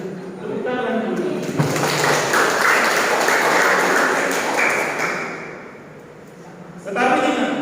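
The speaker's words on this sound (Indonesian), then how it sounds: "Tepuk tangan dulu." A church congregation claps steadily through the middle of the clip to mark an 80th birthday celebration. The dense, loud applause fades out near the end, with speech before and after it.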